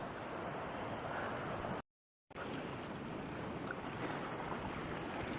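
Mountain stream water rushes in a continuous, dense wash, close and steady, broken only by a half-second dropout of total silence before the flow resumes unchanged.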